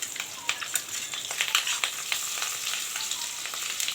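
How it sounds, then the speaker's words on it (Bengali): Rohu fish, along with its roe, fries in hot oil in a pan, giving a steady close crackling sizzle with frequent sharp pops and spatters, with no voices. "আমি রান্না করছি, মাছ রান্না করছি।"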